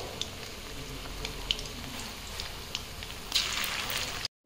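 Chicken manchurian balls fry in hot oil with a steady, dense sizzle and crackle throughout, a few sharper pops standing out near the end before it cuts off.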